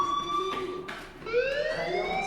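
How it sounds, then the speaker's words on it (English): A school fire alarm in the Life is Strange video game rings steadily at moderate volume, its tone wavering and rising in pitch partway through, with no talk over it. "Hey, do you hear that fire alarm?"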